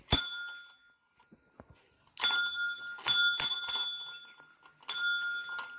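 A metal bell at a Hindu mother-goddess temple in a Himalayan village near Chamoli rings loudly: one strike, a pause, then several quick bright clangs with long shimmering decays.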